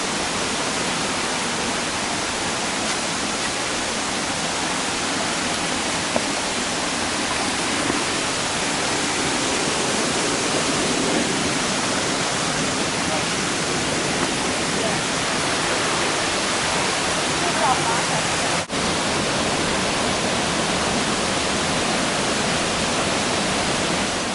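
Elephant Falls in Dalat, Vietnam, pours with a steady, loud, close roar of rushing water that stays unbroken throughout.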